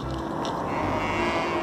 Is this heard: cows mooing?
yes